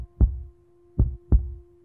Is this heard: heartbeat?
yes